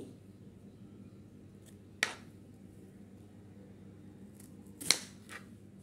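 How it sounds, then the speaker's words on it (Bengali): A knife cuts through a peeled raw green banana, giving two crisp, sharp snaps a few seconds apart. They are close and distinct against a quiet kitchen background with faint hum. "ছোলাগুলো আমি পাশে রেখে কলাটা কেটে নিচ্ছি।"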